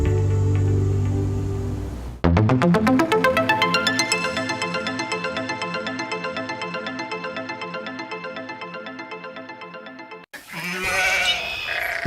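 A cartoon sheep in a children's story bleats in a long, loud, wavering tone that runs for several seconds with a regular tremolo pulse, preceded and followed by bright musical sound.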